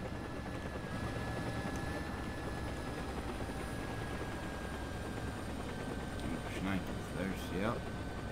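A hostile helicopter in the War Thunder video game gives a steady, continuous rotor drone throughout, with someone talking briefly near the end.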